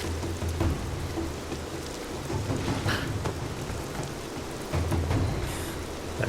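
Steady rainfall in the video game Rise of the Tomb Raider, a constant wash of falling rain with low rumbling beneath, heard alone with no talk.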